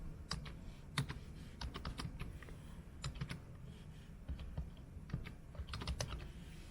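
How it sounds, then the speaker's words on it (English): Someone types on a computer keyboard in quick, irregular bursts of light key clicks over a soft room hum. The sound is close and fairly quiet, with no speech. "I'm typing away"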